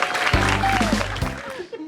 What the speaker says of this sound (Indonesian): Tepuk tangan untuk Agus Tweety.